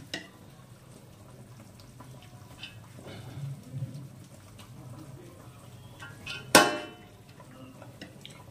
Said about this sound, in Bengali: দিয়ে দিচ্ছি একটা লেয়ার প্রথমে ভাত